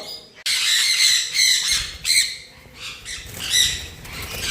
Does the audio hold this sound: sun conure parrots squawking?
yes